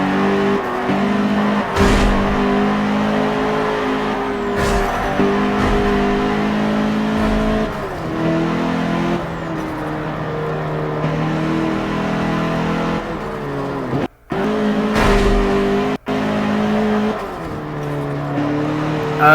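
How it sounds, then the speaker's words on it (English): A car engine in a racing video game drones and revs through repeated gear shifts, pitch rising and falling in waves, loud and steady with a couple of brief dropouts near the end. "It sounds slower than the last car."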